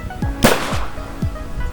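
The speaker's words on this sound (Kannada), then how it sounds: "ಕಳ್ಳೆಕಾಯಿ ಮತ್ತು ಜೋಳ ಹಾಕಿರೋರಿಗೆ ಇದು ಡಮ್ಮಿ ಗನ್ ಕೆಲಸ ಮಾಡುತ್ತೆ." A homemade dummy-gun bird scarer, primed with water and used to guard groundnut and maize crops, fires one sharp, loud bang amid a run of short, repeated whip-like cracks about every half second, with no talking.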